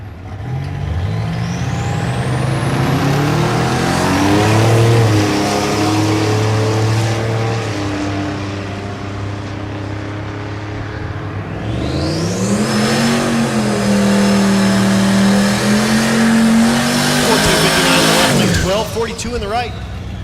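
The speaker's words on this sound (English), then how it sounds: "Dustin Berg in the right lane doing his burnout, the Buick T-Type." A V6 turbo Buick T-Type and a Camaro do burnouts at the Thunder Valley drag strip in Noble, Oklahoma, engines roaring loud and near with rising revs and tire squeal while an announcer talks over them.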